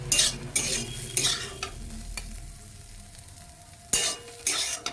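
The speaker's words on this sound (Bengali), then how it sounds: "সবজিটা ভাজা কমপ্লিট হয়ে গেছে, এবার আমি তুলে নেব" Vegetables for chowmein sizzle in a pan while a utensil stirs and scrapes in repeated bursts, close and moderately loud, with quieter frying in the gaps.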